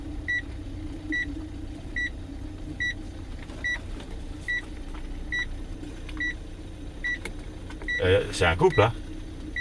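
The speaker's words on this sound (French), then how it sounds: "Ça vient une bagnole." A car passes on a rural road, its engine and tyre noise swelling briefly near the end over a steady background hum with repeated electronic beeps, while people talk quietly nearby.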